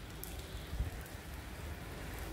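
Rainwater gushes from a burst roof drainpipe onto a garden patch, a steady splashing wash with a brief louder surge, no voices.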